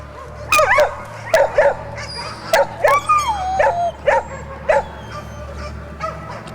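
Hunting dogs bark and yip in sharp, close bursts at a caught wild boar in winter, about a dozen excited calls in quick, irregular succession, some rising into whining yelps.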